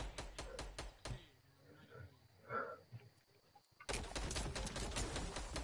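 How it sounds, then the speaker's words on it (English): Gunfire striking a wall in the Fortnite video game, a quick burst of sharp cracks, then a near-silent gap with faint scattered sounds, followed by a dense rattling volley of shots. "That sounded like they were shooting the wall."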